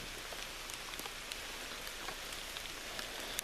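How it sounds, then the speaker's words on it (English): Steady rain falls in a wet Virginia mountain setting, a soft continuous hiss with scattered distinct drops pattering on nearby surfaces, quiet and without talk. "Raining still."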